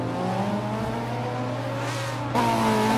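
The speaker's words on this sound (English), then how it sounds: "Pinkie Pie with some aggressive driving right there." Race car engine in the Forza 7 video game at the Hockenheimring, a steady high-pitched whine that jumps sharply in pitch and loudness near the end as the car accelerates or shifts, heard alone without talk.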